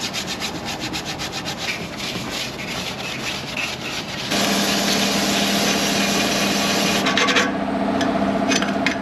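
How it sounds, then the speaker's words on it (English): Rocker arms from a Mercedes M113 engine scrubbed clean in a bucket of kerosene, a steady close rubbing and scraping that grows louder partway through and continues without pause. "I've got a little bucket of kerosene which we're just going to use to clean these up."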